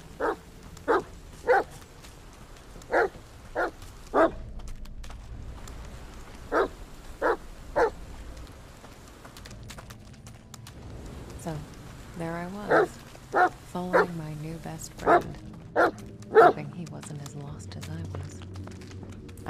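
A dog in the horror video game The Medium barks in short, sharp bursts, several clusters of repeated barks spread across the scene over a low ambient bed, with a faint whimpering stretch in the middle.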